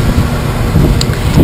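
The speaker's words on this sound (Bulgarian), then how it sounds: "Духа лек ветрец и може да не се чува много добре" Wind blows across the deck of a ship, a steady, loud, low buffeting rumble against the microphone that lasts throughout.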